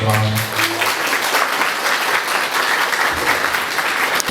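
Applause at a school graduation ball for lower secondary students in Kazanice: a loud, dense, sustained clapping from a crowd indoors, with a brief voice at the start before the clapping carries on alone.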